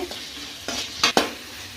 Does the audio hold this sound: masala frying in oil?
yes